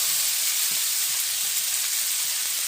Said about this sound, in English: over here I just happen to have some bacon grease, and that's what we're going to fry our potatoes in.